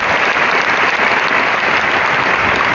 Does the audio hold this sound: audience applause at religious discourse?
yes